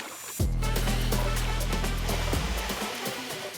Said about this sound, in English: I'm using this special kit here to suck up all the water, which has got loads of dirt